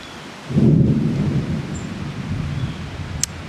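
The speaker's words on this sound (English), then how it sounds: "You hear the thunder?" A low rumble of thunder rolls in and slowly fades, with steady rain hissing in the background.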